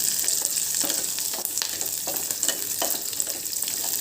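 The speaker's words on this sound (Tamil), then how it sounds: "பச்சை மிளகாயும் நல்லா வதங்கணும்." Green chillies sauté in hot oil in a pan while dal is being prepared, giving a steady close sizzle broken by short scraping stirs, with no talking.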